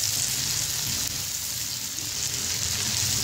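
Tomatoes hitting a hot pan of oil for chana dal tadka, a loud, steady hiss and sizzle up close, with no voices.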